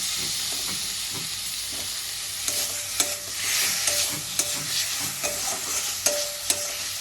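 Spice masala sizzles and fries in a pan for catla fish curry as sliced tomatoes go in, with steady hiss and several sharp clinks of a stirring spoon against the pan, close and alone without talk.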